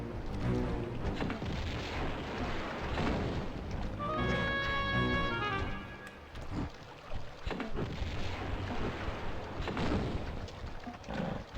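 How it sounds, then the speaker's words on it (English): Grenade launcher fire in the Tomb Raider 2 Ice Palace level, heavy booming game shots and rumbling blasts over a dense, continuous mix of game sound effects, with a brief tonal chime in the middle. "I'm gonna get the grenade launcher out."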